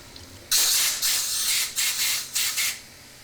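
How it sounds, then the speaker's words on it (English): Bursts of compressed air hiss as pump check valve parts are blown clean, with one long spray followed by several short puffs close by. "Clean the parts using solvent and compressed air."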